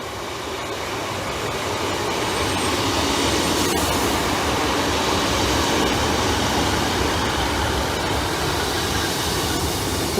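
An East Midlands Railway class 156 diesel train, unit 156410, on the Liverpool Lime Street to Norwich service, gives a steady, loud rumbling roar that holds for the whole stretch with no voices.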